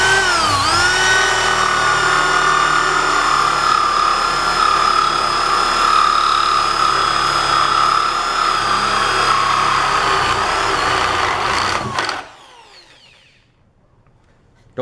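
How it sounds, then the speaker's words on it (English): A power drill bores a hole for a trebuchet build, a steady high whine running evenly for about twelve seconds before cutting off abruptly into near silence. "you can speed up the drill."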